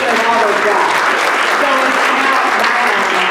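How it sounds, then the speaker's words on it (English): Audience applause at a Rotary club meeting, steady dense clapping filling the whole stretch at close range, with faint voices mixed underneath. "Give them a round of applause."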